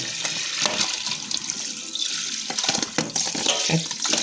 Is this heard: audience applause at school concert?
no